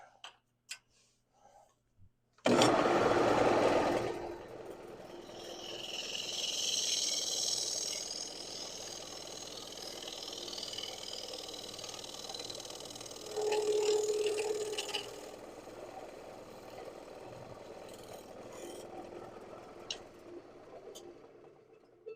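A woodturning lathe spins as a gouge cuts the wood, giving a sustained scraping hiss that swells and fades over about twenty seconds, with a faint ticking rattle underneath, all heard close up.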